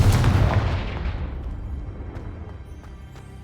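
Fire spell blast from the Hogwarts Legacy video game: a loud booming explosion at the start that rolls off into a long rumbling decay, with no voice over it.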